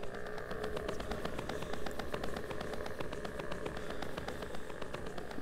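A tractor engine idles in the video game Montas, a steady mid-pitched rumble with fast regular ticking pulses that stays even and fairly close throughout.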